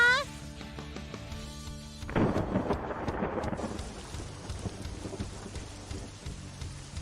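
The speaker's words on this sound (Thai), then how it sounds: "อ้าวฝนตกนี่นา" A sudden crack of thunder breaks loudly, then rolls into a long rumble over steady rain in a children's science lesson, with a speaking voice heard at the start.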